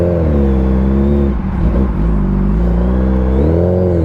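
A 2024 25th Anniversary Suzuki Hayabusa pulls away in first gear with traction control and ABS off. The loud, close engine drone holds steady, dips briefly, then its pitch climbs as it revs.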